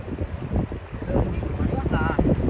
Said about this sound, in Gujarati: જો જો પાણી કેટલું જાય છે જો